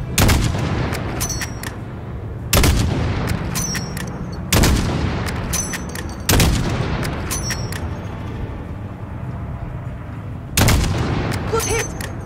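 Heavy gunfire in Call of Duty: Modern Warfare aimed at the tires of a Russian armored personnel carrier, with loud sharp bursts at irregular intervals about two seconds apart over a constant rumbling battle background.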